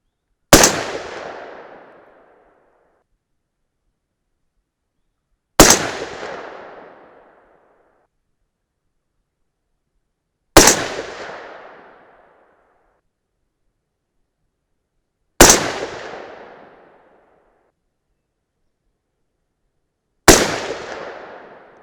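Five loud rifle shots from a .308 Win AR-10 firing Lapua Scenar 155-grain loads with RL 15, evenly spaced about five seconds apart, each a sharp crack with a short decaying tail, with silence between.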